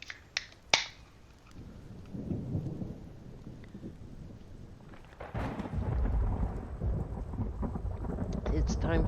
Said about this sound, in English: spring thunderstorm season again.